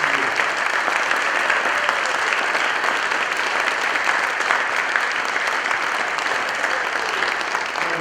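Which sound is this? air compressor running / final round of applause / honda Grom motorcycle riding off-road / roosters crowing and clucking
final round of applause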